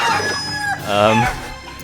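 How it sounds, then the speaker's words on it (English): A rooster crows and chickens cluck in the Shenmue 3 video game, with a harmonic crowing call up front and a bird squawk in the middle, loud and close, with no talking. "So you just kind of move him and steer him towards chickens."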